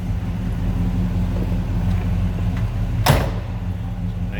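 A 1980 Chevrolet Camaro Z/28's door shutting once with a single solid thud near the end, close, heard over a steady low engine or ambient hum with no talking.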